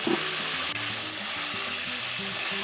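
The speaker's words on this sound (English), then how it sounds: "Add beef in. We're going to saute for 2 minutes." Beef sizzles steadily in a hot pan coated with zhuhou paste, a continuous close frying hiss with faint scraping as it is sautéed, no voices.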